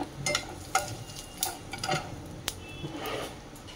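Asafoetida and cumin drop into hot oil and sizzle, a soft, steady crackle broken by stirring scrapes and a few sharp clinks of a spoon against the pan.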